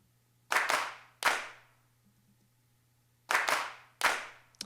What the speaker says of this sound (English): here's just my normal claps. I just took kind of 2 from some drum sets that are already in Logic